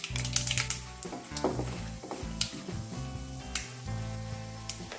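Mustard seeds, cumin and chana dal crackle and sizzle in hot oil, a steady close fizz with scattered sharp pops, beneath louder tonal background music.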